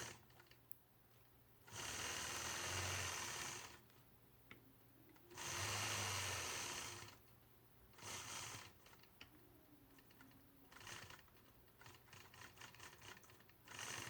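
A quilting machine stitches angular point-to-point lines across a quilt block, running in bursts of a few seconds with pauses between them, a steady mechanical whir that stops and starts again.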